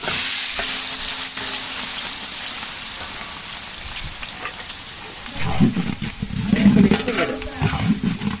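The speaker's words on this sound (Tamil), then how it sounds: "ஒரு ரெண்டு கிலோ வெங்காயம் போடலாம் நல்லா ஸ்லைட்டாக கட் பண்ண வெங்காயம்" Two kilos of thinly sliced onions frying in hot oil for a large batch of chicken biryani, a steady broad sizzle that swells louder near the end as the onions are stirred.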